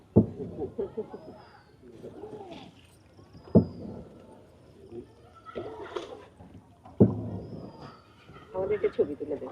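Boat ride on the water at a resort in daytime, with people talking almost continuously over a soft wash of water and occasional knocks and splashes against the hull.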